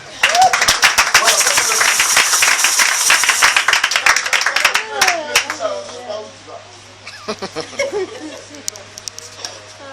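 A church congregation claps in praise of the Lord, a dense, loud burst of many hands that thins out midway into scattered claps, with voices over it and a held tone underneath.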